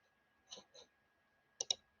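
Computer mouse clicks while adding a file to a GitHub branch: two soft, separate clicks, then a quick, sharper double click about a second later, close by against a faint steady hum.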